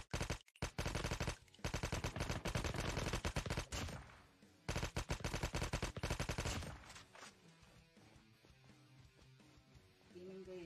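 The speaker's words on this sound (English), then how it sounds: "Shots fired!" Rapid bursts of automatic gunfire from a Call of Duty Mobile battle royale match, loud and dense in the first six seconds with short gaps, then quieter scattered shots beneath game music.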